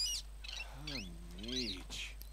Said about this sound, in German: Was ist denn das für ein Vogel hier eigentlich?